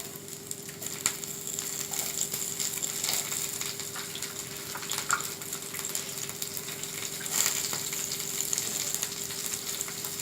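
Curry leaves and green chilies crackle and sizzle in hot oil, a steady near frying hiss with scattered pops and sputters throughout, no voices.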